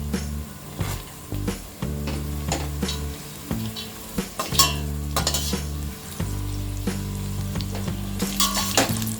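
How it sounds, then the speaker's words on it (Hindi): Cashew nuts fry in oil in a pan while a masala veg pulao is being cooked, giving a steady loud sizzle broken by repeated scraping and clinking stirs of a spoon against the metal pan, with no talking. "हमने 2 मिनट तक कैश्यू नट्स को भी फ्राई कर लिया है।"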